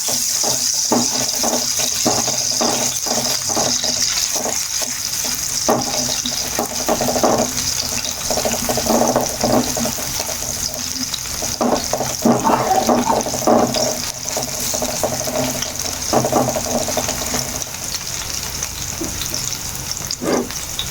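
Chopped garlic and ginger hit hot oil in a pan, giving a steady, loud sizzle and crackle that runs throughout with bursts of spattering, close up and with no talking.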